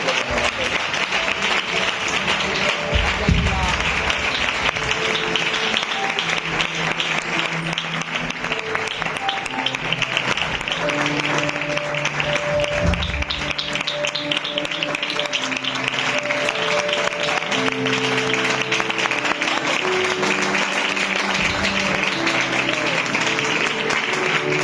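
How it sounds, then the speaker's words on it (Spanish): A church congregation breaks into sustained applause, a dense, steady wash of clapping that carries on for over twenty seconds with faint music or voices underneath. "Un aplauso"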